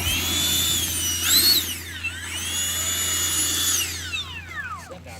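A Freewing Stinger 90 RC jet with a JP 1400kv EDF unit taxis nearby, its ducted fan holding a steady high whine that swells and sweeps in pitch as the throttle is worked, then spools down near the end.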